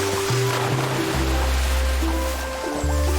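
A vacuum cleaner sucks water out of a lake in the Fresh Start Cleaning Simulator video game, producing a continuous, steady low rumbling gurgle that shifts pitch slightly a few times, with no talking.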